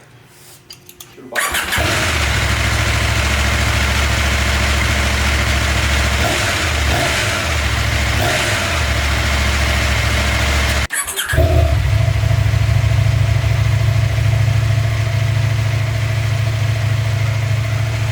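A KTM motorcycle engine with a newly replaced timing chain tensioner cranks and fires up, then settles into a loud, steady idle, briefly cutting out and restarting partway through, close by with no talk.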